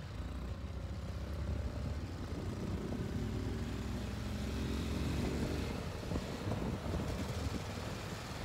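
A motorcycle engine held at high revs gives a steady, throbbing drone that resembles a helicopter's chop. It stays loud and constant for the whole stretch, with wind rumble and no talking.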